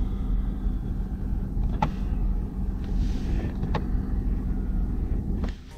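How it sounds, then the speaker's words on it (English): Inside a car, the climate control air flaps shift with a mechanical whir after several sharp button clicks, spaced a couple of seconds apart, over the low hum of the running vehicle. "as I click those buttons, you can probably hear how mechanism moves the flaps inside the car there"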